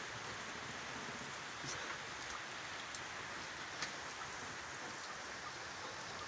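Monsoon rain pours steadily on a Nepali goat farm, a constant even hiss with scattered nearby drips and patters, no voices.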